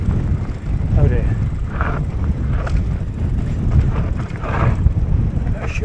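Strong wind buffets the microphone during an outdoor ride, a constant loud low roar of gusts throughout, with faint snatches of voice underneath.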